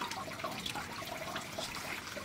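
Water flowing through a koi pond filter system, a steady close rushing and trickling with no breaks and no talk.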